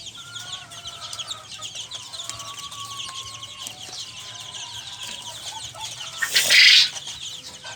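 Young chickens of different colors, newly feathered and starting to flutter, cluck and chirp softly and steadily, with a louder burst of fowl noise near the end.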